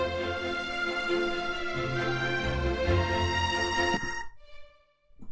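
Orchestral strings layered with a solo oboe playing legato, a dense sustained harmonic texture that swells steadily for about four seconds, then cuts off, leaving a faint held tone that fades out.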